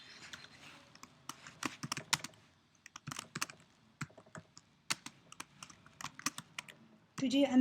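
Typing on a computer keyboard, close irregular bursts of quick key clicks with short pauses, ending in a louder rustling thump.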